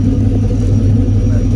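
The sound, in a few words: VW Squareback engine idling with noisy lifters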